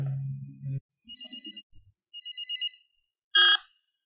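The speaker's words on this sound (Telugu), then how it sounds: "కళ్యాణి, ఇప్పుడు ఆఫీస్ క్లోజ్ చేస్తున్నావు, నీ ఫోన్ వచ్చింది." A telephone rings indoors in an office setting: two short electronic warbling tones separated by a pause, then a brief sharp burst, with other low sounds at the start and no one talking.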